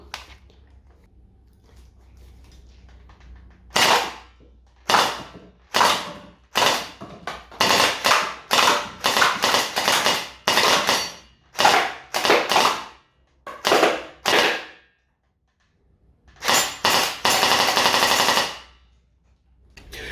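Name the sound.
toy rifle firing shots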